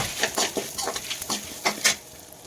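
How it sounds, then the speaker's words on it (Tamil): Garlic and whole spices sautéing in oil in a kadai for garlic pepper curry, a low sizzle under quick repeated scraping and stirring strokes, close and fairly brisk, no speech. "ஒரு கடாயில் எண்ணெயை ஊற்றி எடுத்து வச்ச பொருள் எல்லாத்தையும் ஒன்று ஒன்றா கொட்டிக்கோங்க நல்லா வதக்கி விடுங்க"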